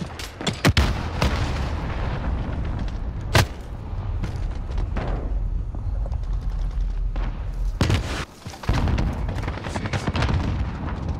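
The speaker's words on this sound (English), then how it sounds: "missile incoming!" Heavy explosions and gunfire from a missile strike in the video game Call of Duty: Modern Warfare: several loud booming blasts, one early, one near the middle and one later, rise over a continuous rumbling battle din.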